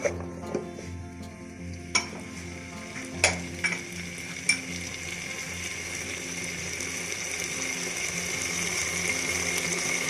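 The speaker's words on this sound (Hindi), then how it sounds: "इसको मैं अच्छी तरह फ्राई करूंगी। फ्राई करते करते ये सारी चीज़ें गल जाएंगी।" Ingredients for chicken soup frying in a pan, a steady sizzle that swells toward the end, broken by sharp clinks of a spoon stirring against the metal early on.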